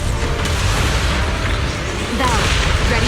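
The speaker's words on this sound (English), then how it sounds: "Explosions." Explosions from the action video game Zenless Zone Zero, a dense continuous rumble of booming blasts and bursts with a louder swell near the end, with voices mixed into the game audio.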